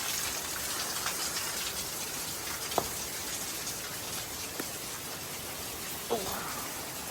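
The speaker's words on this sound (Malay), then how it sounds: "Hujan lebat. Tak boleh nak balik." Heavy rain pours at Keramat Pancuran Mas, an old royal waterfall bathing site in Indonesia, as a dense, steady outdoor roar with a few faint splashes and knocks.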